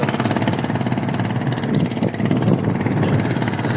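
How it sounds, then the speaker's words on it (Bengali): A small trawler boat's engine runs with a steady, loud idling drone and even throbbing pulse, close by and alone without talk. "যাইতে ছোট একটা ট্রলার লইয়া,"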